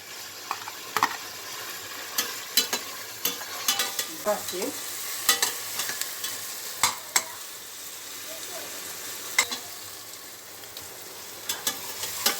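Tomatoes fry in hot oil for a mutton tripe dish, giving a steady close sizzle broken by frequent sharp pops and crackles, with no voices.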